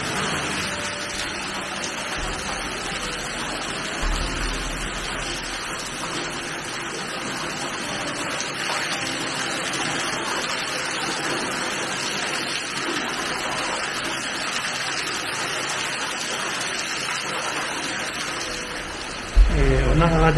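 Steady rushing water of a waterfall inside the Ryugado limestone cave in Kochi, a continuous broadband wash echoing in the cavern, with a brief louder thump near the end.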